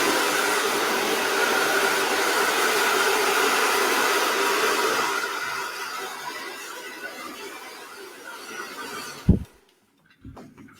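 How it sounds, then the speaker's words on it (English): A hair dryer blows steadily while a fringe is blow dried over a round brush, a loud constant whoosh that fades out near the end, followed by a couple of brief knocks. "I'm going to use a round brush and I'm going to blow dry it over."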